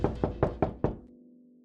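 Five firm knocks land on a door in a steady, evenly spaced rhythm. They are close and loud, and a short ringing tail follows, with no voices over them.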